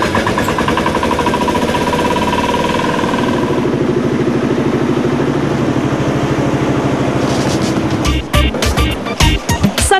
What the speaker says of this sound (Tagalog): At saka dudurugin gamit ang makina.